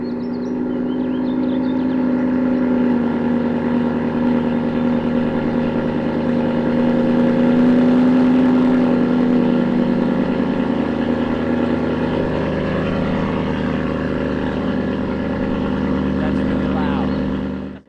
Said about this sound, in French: on va vous faire un démarrage à froid